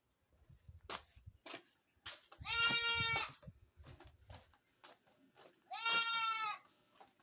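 A goat on a rural farm in Pangasinan lets out two loud, wavering bleats a few seconds apart, close by, between softer scuffs and knocks in an otherwise quiet setting.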